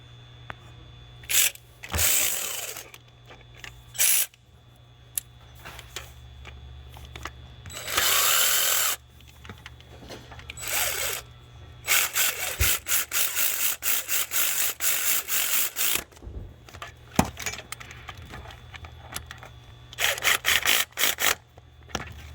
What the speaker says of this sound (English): Let me run that one in with the ratchet